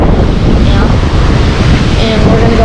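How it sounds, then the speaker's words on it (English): Strong wind buffeting the microphone outdoors near a swinging bridge, a loud continuous low roar and rumble throughout. "It's kind of windy right now"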